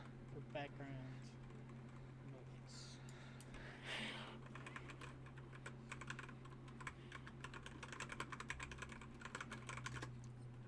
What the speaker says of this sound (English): Doesn't help I have a clacky computer.